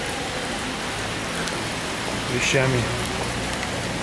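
Rain pours in Santa Cruz de Tenerife in the Canary Islands, giving a constant, close wash of falling water. A brief spoken word is heard partway through.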